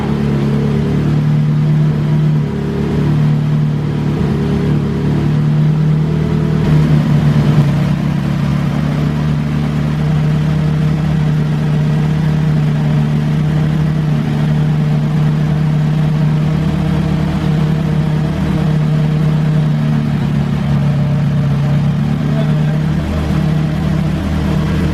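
A Bisimoto Honda K24-powered wagon running on nitrous roars on a dyno, the engine holding a loud, steady, droning rev throughout with a brief surge near the middle and no talk over it.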